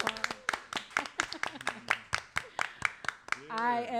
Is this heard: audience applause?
yes